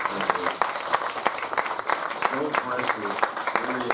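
Scattered applause from a church audience after a Mennonite choir performance, a steady patter of hand claps lasting a few seconds with some crowd murmur underneath.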